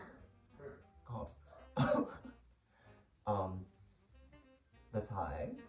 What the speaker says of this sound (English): just like coughing down there